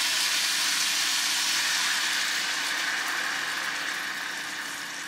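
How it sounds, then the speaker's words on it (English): A stir-fry sauce mixture poured into a hot pan of nearly cooked vegetables, giving a loud, broad steamy sizzle that begins at full strength and slowly eases over several seconds, with no talking. "I'm going to add the mixture we just made into the pan"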